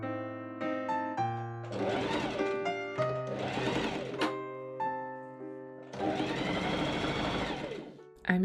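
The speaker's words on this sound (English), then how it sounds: "I machine zigzag along the raw edge of the lower sleeve to seal the raw edges" Sewing machine zigzag stitching along the raw edge of a lower shirtwaist sleeve, running in three or four separate bursts of whirring with short pauses and motor hum between them.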